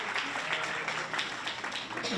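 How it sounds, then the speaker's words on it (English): Applause from a conference audience honoring the men attending a women's professional development event, a steady wash of many hands clapping at moderate, fairly distant level with some speech-like voices in the room. "Can I get a round of applause for all the guys here today?"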